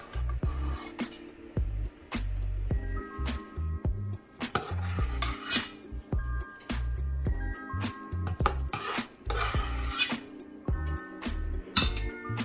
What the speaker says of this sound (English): We're gonna spread it all at the bottom